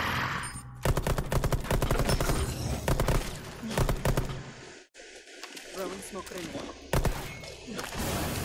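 Rapid bursts of automatic gunfire crackle in the shooter game Rainbow Six Extraction, loud and sustained with a brief pause midway, while a voice talks in the gaps.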